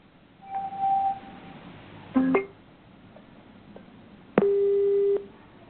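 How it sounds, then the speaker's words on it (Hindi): Electronic tones on a telephone line after a call is hung up: a few separate beeps of different pitches spaced apart, thin and narrowband, with no talking. "इसलिए फोन उन्होंने काट दिया है।"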